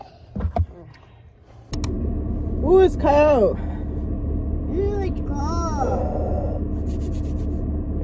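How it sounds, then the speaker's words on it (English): A car engine idles as it warms up, a steady low rumble running throughout after starting near the two-second mark, with a voice talking over it and a few brief whistly chirps. "I let the car warm up."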